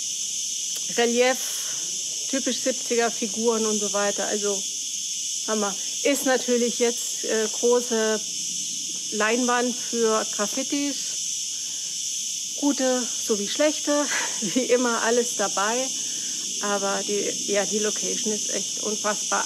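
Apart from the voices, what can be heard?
crickets chirping loudly in an open-air arena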